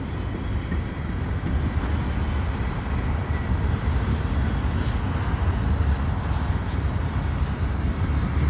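A CN freight train led by an ES44AC locomotive rolls past near Dorval West, a steady, loud broadband rumble of wheels and cars that holds for the whole span without break.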